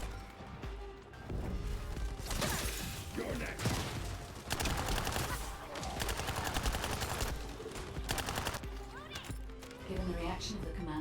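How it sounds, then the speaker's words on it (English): Pistol gunfire in a video game, repeated sharp shots in bursts amid crashes and dense game action, with talk over it. "Still not used to using this this pistol."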